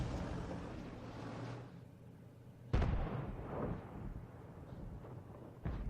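An artillery shell fired in World of Tanks, a sharp booming blast in the middle followed by a rumbling tail, with another short burst at the end and distant battle ambience between.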